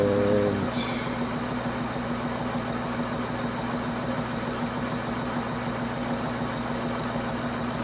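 A spinning wheel on a homemade free-energy motor rig whirs with a steady, continuous hum and low mechanical vibration, close and even throughout after a brief opening tone.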